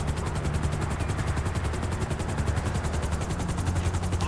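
A helicopter in GTA V, parked where traffic won't hit it, gives a steady loud rotor thrum and whine that runs unbroken and close for the whole stretch, with no talk over it.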